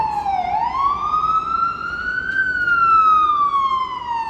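A fire department ambulance siren wails loudly and close on a New York City street, one long sweeping rise and fall that dominates the sound with nothing else audible over it.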